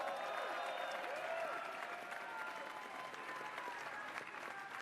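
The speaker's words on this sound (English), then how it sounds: "Give yourselves a round of applause." Crowd applause at a New York vigil for the Orlando massacre victims, a steady dense wash of clapping from many people that holds at an even level throughout, with no talk over it.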